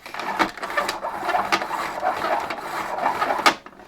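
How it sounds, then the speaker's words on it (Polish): The cord rewinder of a Zelmer vacuum cleaner retracts with a close, whirring, rattling mechanical buzz, broken by several sharp clicks and knocks, ending with a final clack. "Zwijacz działa całkiem fajnie."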